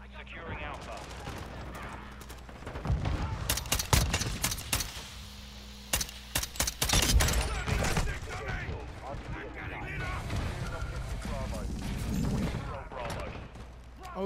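Rapid bursts of gunfire crackle through a first-person shooter match, sharp volleys clustering in the middle and returning in scattered shots later over steady game background noise.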